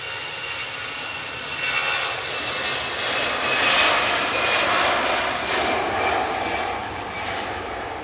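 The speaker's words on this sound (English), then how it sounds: "EasyJet off to Prague." An EasyJet airliner takes off from Manchester Airport bound for Prague, its jet engines giving a broad, steady roar that swells slightly and stays loud and continuous with no voices.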